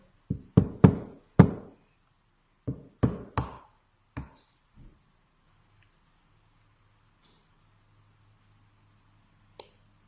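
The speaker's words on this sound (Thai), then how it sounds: "เราจะมาพิสูจน์ไข่กัน ว่ามันจะสุกไหม ก็เคาะเลย" A soft-boiled egg cooked in a glass is tapped to crack its shell: a quick run of sharp knocks, then a second cluster, a few softer taps, and one last isolated click after a quiet gap.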